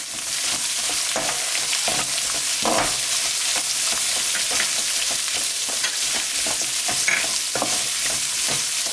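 Garlic, ginger and onion sautéing together in a pan for a Tamil chicken green curry, with a steady close sizzle and repeated scraping stirs throughout, no talking.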